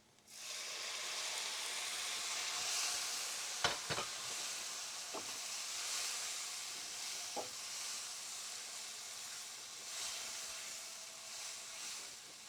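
Tomato tipped into a hot pan for rasam sets off a steady, close sizzling hiss, broken by a few sharp clatters of a spoon against the pan, with no talking.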